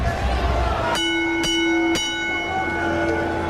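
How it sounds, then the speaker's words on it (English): A wrestling ring bell at a 1998 WCW Nitro event is struck three times in quick, evenly spaced succession, each ring leaving a clear lingering metallic tone over arena crowd noise. "Okay, the bell sounds,"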